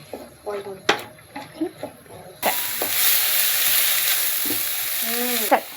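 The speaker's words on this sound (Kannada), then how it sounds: "ಹೆಚ್ಕೊಂಡಿದ್ದು ಕೋಸು ತಗೊಂಡು ಬಾಣಲಿಗೆ ಹಾಕಿ" Chopped cabbage hits a hot pan and frying starts partway through, a loud steady sizzle that runs on to the end, after brief voice sounds and clinks at the start.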